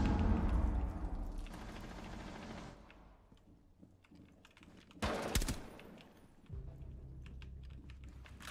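Gunfire in a first-person shooter game during a live stream, bursts of rapid shots with a sharp loud volley in the middle, among keyboard clatter and game ambience, with quiet talk at times.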